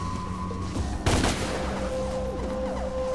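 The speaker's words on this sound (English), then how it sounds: "Press square repeatedly to shoot demonic shards" Rapid pistol fire shooting demonic shards in the Devil May Cry (DmC) demo, a dense burst of shots around the one-second mark over game music and ambient tones.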